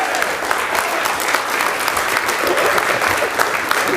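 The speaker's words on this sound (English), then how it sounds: "Round of applause." A crowd applauds steadily for an Entrepreneur of the Year award winner at an event, a dense, even wash of clapping that fills the whole moment without any voices.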